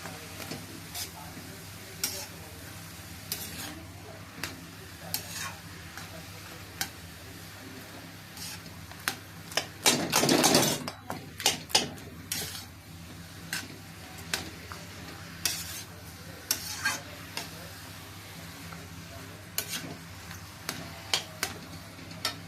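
Turmeric and spices go into hot oil in a pan while cooking cauliflower with fish head, giving a soft crackling sizzle with a spoon scraping and ticking against the pan. A brief louder burst of frying occurs midway, with some quiet background sounds around it.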